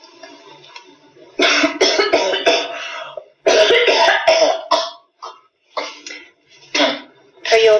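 Several harsh coughs come close up in clustered bursts with short pauses between them, loud and unaccompanied.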